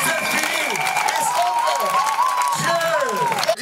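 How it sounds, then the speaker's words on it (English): Church congregation clapping loudly and continuously during a sermon, a dense wash of applause mixed with cheering and raised voices throughout. "Clap offering now."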